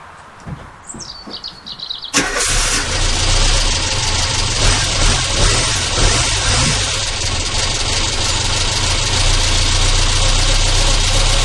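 A Renault Twingo's engine cranks and catches at once after birdsong outdoors, then settles into a loud, steady idle that runs close and even for the rest of the recording.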